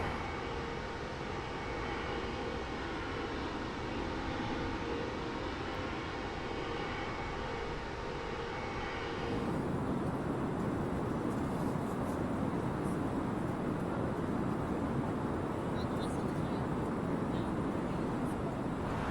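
Airliner engines during descent toward Madeira in Microsoft Flight Simulator, a steady loud broadband roar and hum that shifts to a deeper, rougher rumble halfway through.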